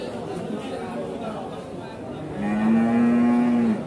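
Beef cattle at the crowded Paing livestock market in Pati, including long-bodied Limousin bulls, with one cow letting out a long low moo near the end over busy background chatter.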